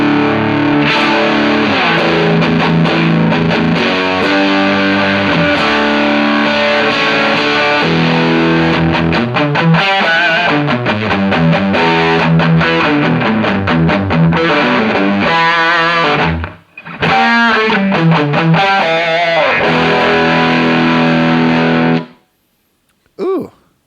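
Electric guitar through a Bixonic Expandora distortion pedal: heavily distorted chords and riffs played loudly and continuously, with a brief dropout near the end before the sound cuts off.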